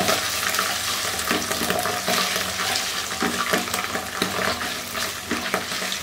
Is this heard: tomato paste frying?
yes